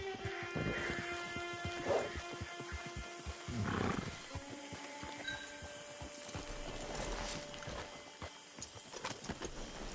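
Hooves clip-clop from a horse in the video game Red Dead Redemption II, irregular soft steps with scattered thuds and rattles of tack, fairly faint amid ambient game sounds and brief tonal effects.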